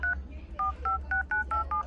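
Keypad tones from a Xiaomi Redmi 7A smartphone, a steady run of about eight short electronic beeps in a quick, slightly uneven rhythm over a low background hum.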